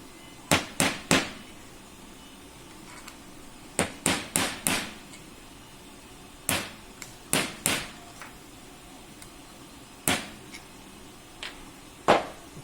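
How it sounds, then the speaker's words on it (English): Sharp metallic hammer strikes on a long bolt during LongMill V2 assembly come in quick bursts of two to four blows, separated by short pauses, loud and close with no talking. "use one of the long bolts and hammer here just to orient this"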